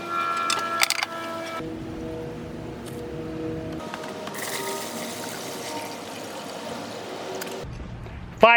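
Water is poured into the tray of a Harbor Freight Diamondback 7-inch tile saw, a steady, continuous splashing fill of moderate loudness lasting several seconds, with brief knocks at the start and end.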